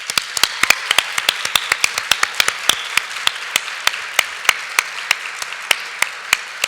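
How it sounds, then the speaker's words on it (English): Sparse, distinct hand claps from a handful of people in an audience for an award recipient, an irregular patter of sharp individual claps rather than a full crowd ovation. "thank you, Grace, and a round of applause"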